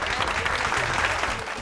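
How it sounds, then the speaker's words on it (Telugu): A college game-show audience claps loudly in a dense, continuous burst of applause for a contestant, steady throughout and with no talk over it. "ఒకసారి గట్టిగా క్లాప్స్ కొట్టండి సమీర్కి"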